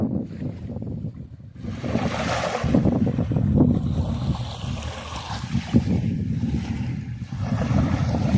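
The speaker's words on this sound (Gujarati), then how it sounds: "ભરતી ચાલુ છે, ઓટ આવે છે ટૂંકમાં એવું લાગે છે" Sea waves wash in at the shore on an incoming tide beside a seaside farm, making a continuous, fairly loud rushing surge mixed with buffeting wind noise, with no talking.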